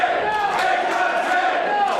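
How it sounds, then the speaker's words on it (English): A packed crowd at an independent wrestling show roars steadily and loudly, a sustained wall of cheering and shouting that never lets up. "Listen to this crowd."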